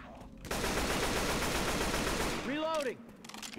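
Rapid automatic gunfire from Left 4 Dead 2 rattles in a dense sustained burst for about two seconds, then cuts off as a short voiced sound rises briefly over the tail.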